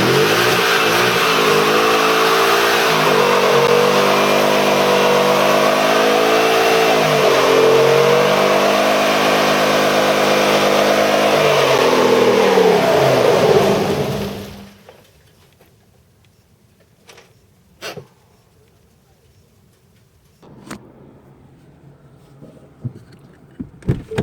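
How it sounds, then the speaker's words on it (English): A 2018 Ford Mustang GT does a line-lock burnout: the engine holds a loud, sustained, wavering rev close by for about fourteen seconds, then cuts off to near silence broken by a few faint clicks and knocks. "Burning up my tires for y'all."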